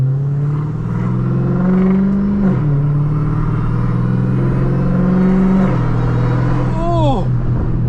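A 1000hp Dodge Hellcat Redeye is driven at 3 a.m., its engine a loud, close, steady droning rumble. The pitch drops twice as it shifts, then a rising whine climbs near the end.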